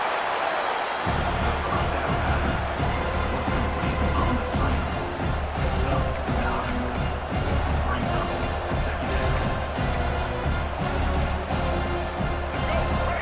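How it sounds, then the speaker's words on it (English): A dense, steady roar of a large stadium crowd in a football video game fills the background, with a commentator's voice running over it. "Listen to the crowd energy here in the early going."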